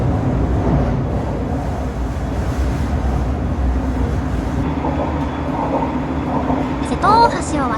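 Interior rumble of the Shiokaze tilting limited express, the Anpanman train, crossing the Seto Ohashi bridge from Okayama into Kagawa: steady loud rolling drone with rail clatter, and a brief high squeal near the end.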